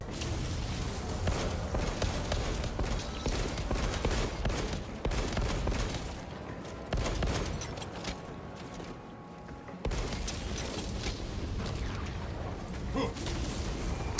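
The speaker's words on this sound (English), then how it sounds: "Dude, I love the heavy bolt pistol." Rapid bursts of heavy bolt pistol fire from a Warhammer 40,000 video game, dense and continuous with booming impacts layered over battle noise and clanking mechanisms, steady and loud throughout with a brief dip near the middle.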